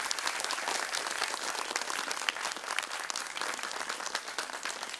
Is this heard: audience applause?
yes